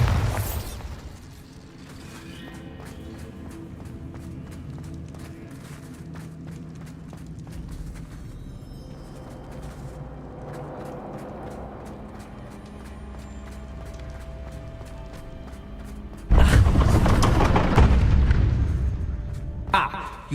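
A Bombarda blasting spell in Hogwarts Legacy bursts in a loud, heavy explosion late on, rising sharply over quieter game music and rumbling effects, with spoken dialogue heard earlier.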